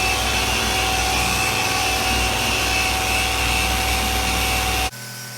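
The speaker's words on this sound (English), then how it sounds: "just guiding the polisher back and forth with my hand" An electric polisher buffing the paint on a classic car, a loud steady motor whir with a constant tonal hum that cuts off abruptly near the end, leaving quieter room noise.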